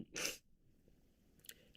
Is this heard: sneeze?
yes